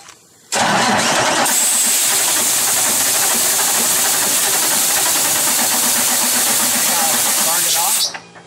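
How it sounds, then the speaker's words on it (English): A Cummins ISX diesel engine cranking during injector replacement, with compressed air blown at the same time, a loud, steady hiss and churning roar that starts abruptly, holds for about seven seconds, then cuts off. "We'll crank the engine, and I'll put some air on this at the same time"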